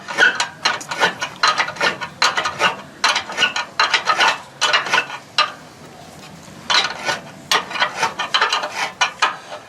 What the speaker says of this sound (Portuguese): É exatamente acochando o parafuso, né?